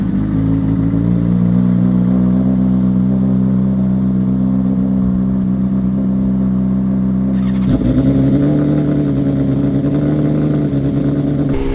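A 2024 BMW S1000RR engine starts and settles into a loud, steady idle alongside another motorcycle already running, the combined rumble thickening partway through.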